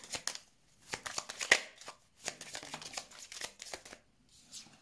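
Tarot cards are shuffled and laid down onto a table: quiet, close riffling and papery slaps in irregular bursts with brief pauses, soft and intimate, no talking.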